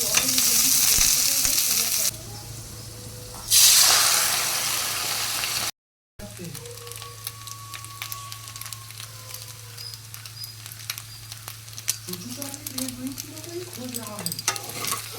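Onion frying in a little oil in a pan, a loud hissing sizzle that drops briefly, cuts out for a moment, then resumes quieter with scraping stirs and crackles, a voice speaking now and then.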